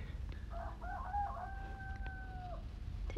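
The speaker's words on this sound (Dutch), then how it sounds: "De eerste haan." A rooster crows once in a clear drawn-out call from an olive grove, moderately distant and faint over a quiet low background hum.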